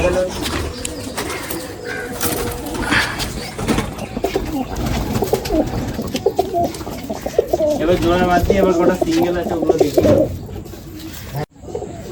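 Desi pigeons kept in a home loft coo steadily in the background while someone speaks over them, the rolling throaty calls continuing close and fairly loud throughout.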